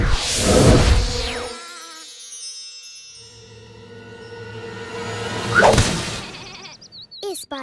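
Cartoon sheep bleat in an animated Little Krishna episode, two loud wavering bleats separated by a quieter stretch, with swishing whooshes around them.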